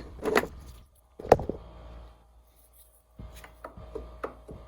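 Loose clunking knocks from slop in a Mustang T5 transmission shaft: two sharp metallic clunks, then a cluster of lighter rattling knocks, close and fairly quiet with no talk.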